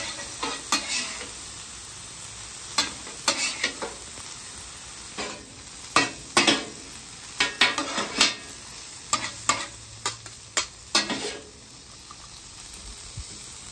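Pork and leeks fry on a hot griddle with a steady hiss and sizzle, while a metal spatula stirs and scrapes in repeated bursts of clatter, close and loud, with no talking.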